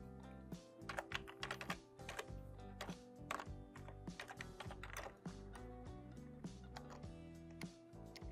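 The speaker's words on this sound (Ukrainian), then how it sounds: "Введемо адресу поштового сервера Укрнет." Quick, irregular clacking of computer keyboard keys as a web address for a Ukrainian mail server is typed into a browser, close and fairly quiet, with short bursts and pauses between keystrokes and no voice.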